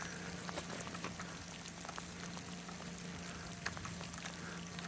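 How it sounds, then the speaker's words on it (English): Steady rain pouring down during an ice storm, a dense, constant hiss of drops with scattered sharper ticks of impact, continuous and even throughout. "Oh, the rain."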